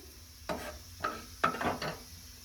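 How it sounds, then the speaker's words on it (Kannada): Almonds and other dry fruits frying over a slow flame in a pan for semiya payasa, heard as a low steady sizzle broken by a few sharp stirring scrapes and clicks, close and fairly quiet, with no talking. "ನಾನು 1 by 1 ಎಲ್ಲ ಡ್ರೈ ಫ್ರೂಟ್ಸ್ಗಳನ್ನ ಚೆನ್ನಾಗಿ ಫ್ರೈ ಮಾಡ್ಕೊಳ್ತೀನಿ"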